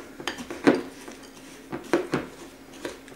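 A utensil scrapes and knocks against a pot or bowl while stirring a thick, smooth paste for smoking a ham, in a few separate clinking strokes spaced irregularly, close and moderately loud with no talk.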